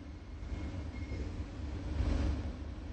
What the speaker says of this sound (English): the train approaching is for Skytree.